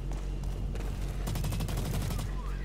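Rapid gunfire in the video game Blacklight Retribution, a dense string of close shots over a constant low rumble, with voices murmuring underneath.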